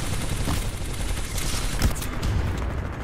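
Dense, sustained gunfire in a first-person shooter, a continuous fusillade with scattered louder bursts and booms, heard alone without talk.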